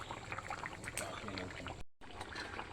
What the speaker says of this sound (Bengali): এবার আমি এটাকে নামিয়ে এই পাত্রে ঢেলে রাখবো।